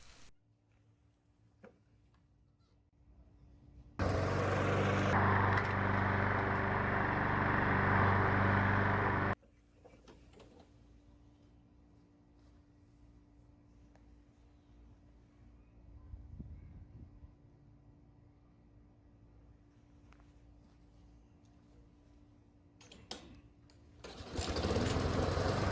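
A lawn mower engine roars loudly for several seconds as it runs over a wooden fishing lure, then cuts out abruptly, leaving quiet rustling before another engine burst starts at the very end.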